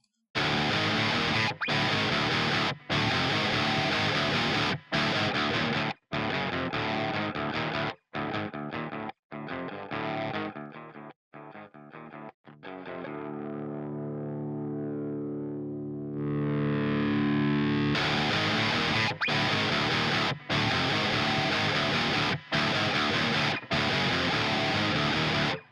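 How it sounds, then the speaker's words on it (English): Electric guitar played through a Joey Sturgis Toneforge Menace overdrive pedal, loud and heavily distorted chugging riffs with sharp stops, easing into a sustained ringing chord in the middle before the chugs return. "So let's go to the overdrive pedal first of all."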